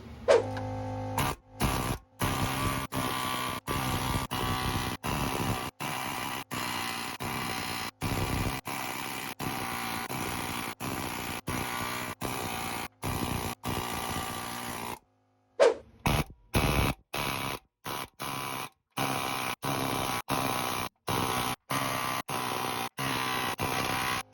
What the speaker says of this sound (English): Next thing I'm gonna do is use this air hammer.